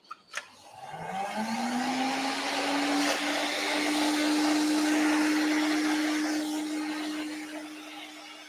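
A vacuum cleaner switches on after a couple of clicks, its motor whining up to a steady loud drone that holds, then eases slightly.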